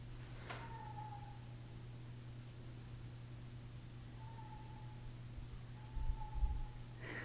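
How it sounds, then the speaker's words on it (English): A cat meows from down a hallway, three faint, drawn-out cries spread over several seconds against a steady low hum in a quiet room. "he heard me start the reading and he came to meow down the hallway"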